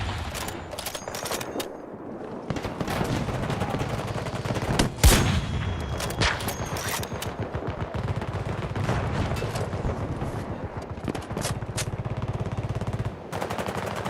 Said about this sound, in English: Who's even shooting me, bro?